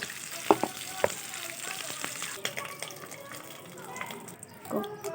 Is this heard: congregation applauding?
no